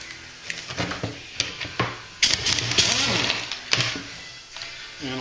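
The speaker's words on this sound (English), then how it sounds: "I'm gonna use an impact gun to get the two bolts off" An impact gun takes bolts off the pedal box of a Triumph TR3A: sharp mechanical clicks and handling noises build into a dense rattling burst in the middle, close by and with no talking.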